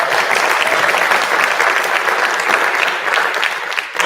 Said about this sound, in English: give us a round of applause if you've enjoyed all the speakers so far today